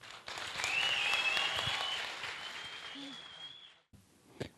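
Audience applause breaks out after a singing audition at an Ethiopian Idol talent contest in Mekele: a dense, steady wash of many hands clapping, with a whistle or two over it, fading after a few seconds into quieter room sounds.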